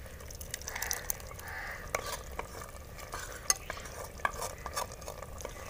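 Boiled chickpeas cooking with beaten yogurt in a pot, soft frying hiss with scattered scraping and clinking of a spoon stirring, fairly quiet and close.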